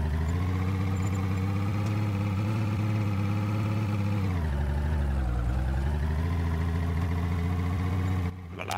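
A car engine idles in a shooter video game with a loud, steady, low harmonic hum. Its pitch dips briefly midway, and a short cutoff comes near the end, with no talking.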